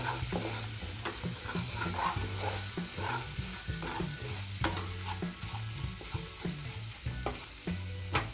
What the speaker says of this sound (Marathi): आता तुम्ही बघू शकता आपला मसाला छान परतून झालेला आहे